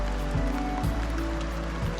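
Rain starting to come down at a backcountry campground, a steady close patter over a low rumble, with a couple of faint thumps and no speech.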